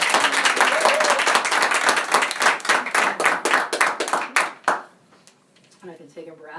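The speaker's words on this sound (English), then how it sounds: "give a big round of applause for Kate for sponsoring this" A small audience applauds for a sponsor at a live-streamed panel, bursts of close, distinct hand claps with voices mixed in, thinning out to a few scattered claps before stopping.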